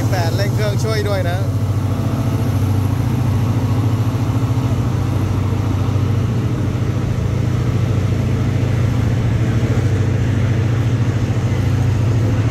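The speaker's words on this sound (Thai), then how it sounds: "นี่ก็เป็นการควบคุมรถจักรนะครับเร่งเครื่อง2คันเลย" Two coupled diesel locomotives pulling an ordinary Thai passenger train near Ban Pong rev together, a loud, steady low engine drone with rhythmic throbbing that holds throughout, a brief higher chirp near the start, and voices talking over it.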